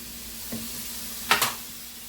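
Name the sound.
soy sauce stirred into sizzling pan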